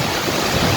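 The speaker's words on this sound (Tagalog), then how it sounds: "Nakakatakot kasi ang lakas ng hangin." Strong storm wind roars in Tagaytay, a continuous loud rush buffeting the microphone for under a second, with no voices.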